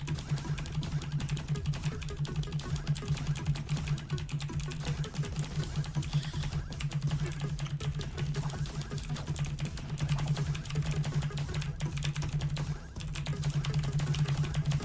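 Continuous rapid clicking from typing on a clicky mechanical computer keyboard, a dense steady patter of keystrokes heard fairly faintly over a constant low electrical hum, with no voices.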